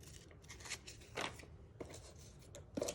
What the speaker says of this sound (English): We can go ahead and cut this out with my snips.